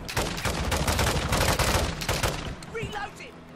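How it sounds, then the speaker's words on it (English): Marksman rifle shots in an action video game come as a dense, loud fusillade of overlapping gunfire with rapid repeated cracks, mixed with game effects and some talking, then easing off near the end. "Marksman rifle, I love it."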